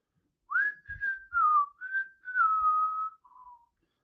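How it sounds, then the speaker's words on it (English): A person whistles a slow, wavering tune of several sustained notes in a quiet room, clear and close with short gaps between phrases. "That's the little boy whistling in the dark"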